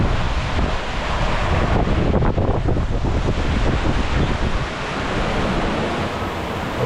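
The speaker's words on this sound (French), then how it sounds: "la mer est étonnamment agitée" Rough, choppy sea surging around a small sailboat sailing solo off the Yucatán toward Guatemala, steady loud wash of waves mixed with buffeting wind across the microphone throughout, no voices.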